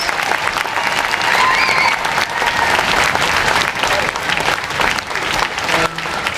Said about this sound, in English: And a big round of applause for your parents.